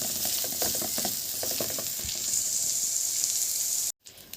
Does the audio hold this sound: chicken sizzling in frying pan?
yes